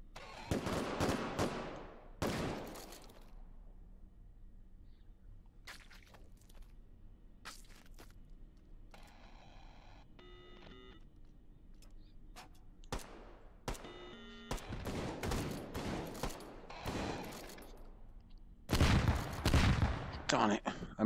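Shotgun blasts in the VR shooter Hot Dogs, Horseshoes & Hand Grenades ring out in loud bursts, scattered single shots mixed with rapid clusters, amid quieter mechanical clicks of reloading.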